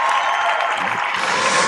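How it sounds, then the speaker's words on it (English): A crowd applauds steadily at an Air Force training squadron graduation ceremony, a dense wash of clapping with faint cheering throughout. "In the stands cheering are her father and mother, Doug and Veda Haskins."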